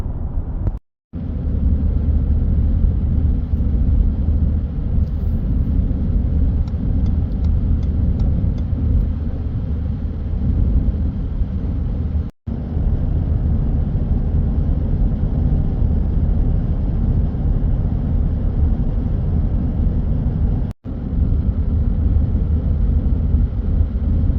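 Car cruising along a road through the Nantahala National Forest in North Carolina, a steady loud low engine and road rumble heard from inside, continuous apart from two brief dropouts.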